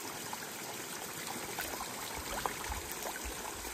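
Steady rushing and trickling of clear water from a mountain river in Uttarakhand, broadband and continuous over the whole clip with small splashes rising out of the flow.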